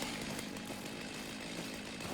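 A chainsaw in the game Satisfactory clearing foliage gives a steady, buzzing motor drone throughout, moderately quiet and with no talking.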